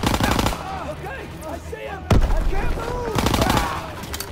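Rapid machine gun fire in the World War II shooter Call of Duty WW2 campaign, dense repeated bursts with a loud impact near the middle, close and intense, with shouting and whizzing battle sounds layered throughout.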